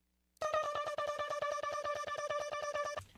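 Sung "da" syllables sent through an analog Roland SDE delay, a bright buzzy tone repeating in a fast, even stream of echoes for about three seconds, loud and alone.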